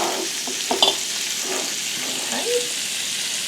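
Sausage fries and browns in a pan with a steady background sizzle, broken by a few brief stirring clinks and scrapes.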